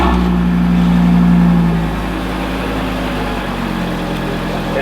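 An Audi RS3 with a Scorpion exhaust idles loudly and steadily on a cold start with a deep low rumble, the revs dropping slightly partway through after the start.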